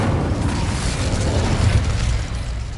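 The Incendio fire spell in the Hogwarts Legacy video game erupts as a loud, sustained whooshing roar of flame with a deep rumbling body, steady for nearly three seconds.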